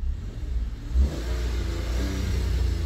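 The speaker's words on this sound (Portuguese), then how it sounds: "a tremidinha do 3 cilindros. Treme! Olha o barulhinho do motor mini Porsche" A 1.0-litre three-cylinder car engine runs nearby with a steady low rumble and slight shake, revving briefly around the one-second mark, with no voices.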